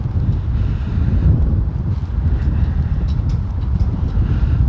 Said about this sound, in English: on a wild and windy night